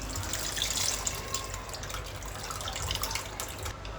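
Tamarind water poured into a simmering pot of Andhra-style meva fish curry, a steady liquid splash and trickle of moderate loudness that runs continuously, close to the listener, with no talk.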